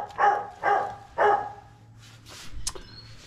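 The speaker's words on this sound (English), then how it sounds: "All he's done is bark." A dog gives three short, fairly close barks in quick succession, followed by quieter indoor background noise.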